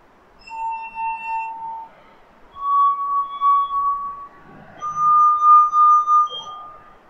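Three wine glasses holding different amounts of water ring in turn, each a clear sustained tone at a different pitch, played close and alone with slight swells as each is sounded.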